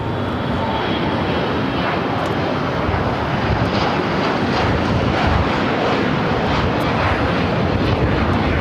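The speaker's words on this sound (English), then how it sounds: "We do have a business jet taking off here on the south side." A business jet takes off from the south side at LAX, its engine roar loud, broad and steady, swelling slightly over several seconds, with no voices.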